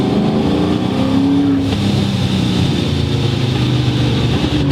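A Procharged F1A Terminator Cobra with a matte wrap and Weld racing wheels accelerates hard, its supercharged engine roaring loud and close and climbing through gears without pause, with no talking.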